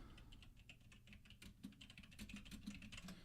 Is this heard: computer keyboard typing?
yes